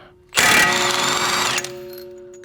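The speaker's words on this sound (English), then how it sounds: "because we have an impact wrench, we're going to do it with that" Impact wrench spinning off the front axle nut of a Tesla Model 3 in one loud, close burst of about a second and a half, followed by a fading whine and quieter residual hum.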